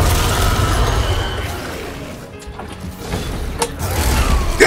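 A cluster bomb goes off in a video game, loud crashing blasts with a heavy low rumble that fades mid-clip, then sharp cracking bursts and a renewed roar toward the end.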